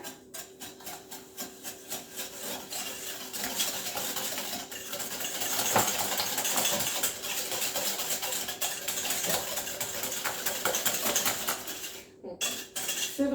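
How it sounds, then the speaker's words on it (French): Sugar and four eggs are whisked together for brownie batter, making a rapid, rhythmic tapping and scraping of a whisk against a bowl that runs on steadily, close and fairly quiet, with no talk. "on verse le sucre avec 4 œufs, on va fouetter le tout"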